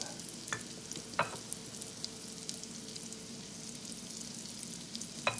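Salmon or mackerel patties fry in grease in a skillet, giving a faint, steady sizzle with a few soft clicks and taps.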